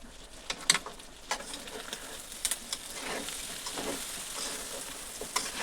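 Chicken frying in a pan for fry piece biryani, a steady crackling sizzle punctuated by several stirring scrapes and clacks, faint and alone.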